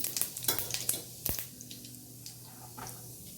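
Cumin seeds sizzling in hot oil in a home kitchen pan, with a steady crackle of small pops and hiss, plus a few sharper clinks of stirring, heard close and moderately quiet.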